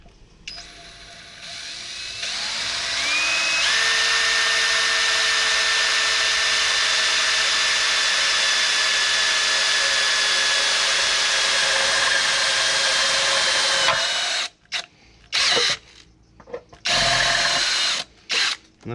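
A power drill runs loud and steady for about eleven seconds as it bores through the sheet-metal body of a VW Crafter/Sprinter van near the fuel filler neck, then stops and gives a few short bursts.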